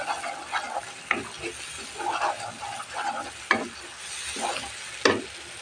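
Masala spice paste fries in a pan for a fish curry, a steady sizzle broken by several sharp scrapes and clacks of stirring, close and moderately loud with no voices.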